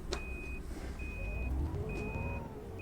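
Reversing beeps from an ADL Enviro400 double-decker bus in OMSI 2, London route 432, sounding as three steady electronic tones over a low running engine rumble.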